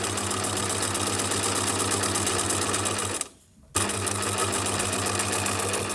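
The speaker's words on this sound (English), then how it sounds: "You lift up your presser foot, you turn round, lower the presser foot, you sew." A sewing machine running at speed along a seam, giving a loud, even mechanical whirring hum that stops for about half a second to turn a corner and then starts again. No voices can be heard.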